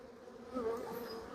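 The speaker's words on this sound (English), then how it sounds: "So these bees are really not happy with me, as you can tell" Agitated honeybees buzz at an opened hive, a short, faint drone that swells midway and holds steady without speech.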